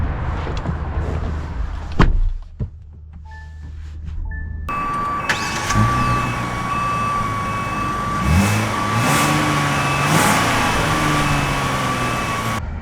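A 2025 Kia Carnival EX minivan drives along with steady road and engine noise, after a door thud and brief quiet near the start, with a faint rising and falling engine tone beneath the continuous rumble.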